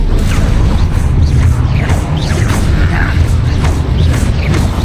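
Fiery blasts from the Confringo spell in Hogwarts Legacy, a dense, continuous barrage of booming impacts and whooshes over a heavy low rumble, loud and sustained throughout with no pauses.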